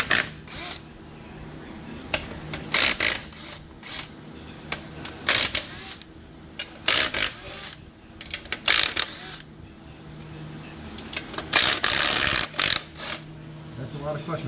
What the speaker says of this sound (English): So we'll pull the pressure plate off and see what we got.